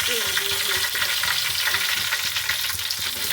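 Asafoetida, chilli and cloves sizzle in hot oil in a pan, a dense, continuous close-up crackle with small stirring scrapes throughout.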